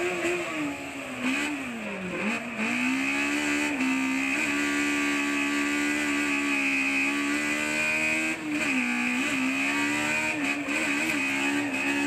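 A Toyota AE86 with a high-revving 4AG engine screams at high rpm on the Fuji circuit through fast corners, its loud sustained engine note dipping briefly on lifts and climbing again, racing in a D1 drift event.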